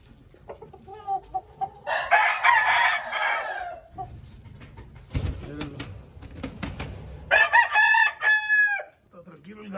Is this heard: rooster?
yes